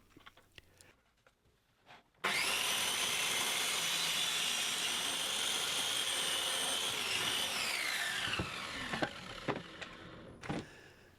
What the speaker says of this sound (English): I can cut it in half on the crosscut jig to make our two identical parallel